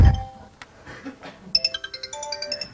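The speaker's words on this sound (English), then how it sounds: "That's my phone. It has to be my phone" A mobile phone ringtone chimes in a talk or discussion room, a repeating melodic pattern of bright tones that starts after a muffled thump and continues steadily, fairly close and clear, with no speech over it.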